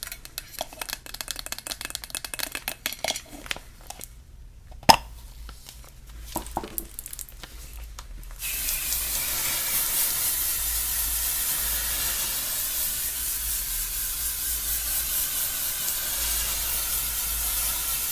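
Hairspray sprays from an aerosol can in a long, steady hiss lasting about ten seconds, following quieter rustling and a sharp click from handling the can.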